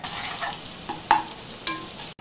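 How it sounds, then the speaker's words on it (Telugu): Ginger garlic paste fries in a pan with green chillies and curry leaves, giving a continuous sizzle with a few sharp scraping stirs of a spoon, close and clear with no voices. "తరువాత 2 టీ స్పూన్ల అల్లం వెల్లుల్లి పేస్ట్ వేసి బాగా కలపండి."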